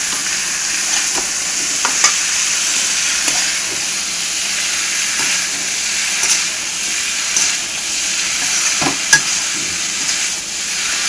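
Half-boiled mixed vegetables (beans, carrots, cauliflower, potatoes) sizzle loudly in a hot frying pan in a home kitchen, a continuous hiss broken by a few scraping stirs of the spoon, with no talk.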